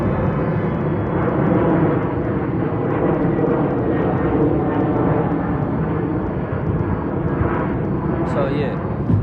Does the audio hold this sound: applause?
no